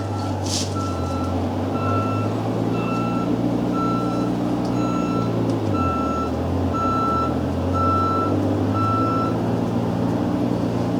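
Steady, evenly spaced reversing beeps from a school bus, repeating about every second over a loud, rumbling diesel engine idle.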